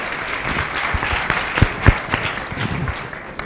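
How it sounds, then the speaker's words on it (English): A panel-discussion audience at a banking technology event gives a modest round of applause, scattered claps standing out over a low murmur, fairly distant and thin. "Let's have a large round of applause for our wonderful panelists here."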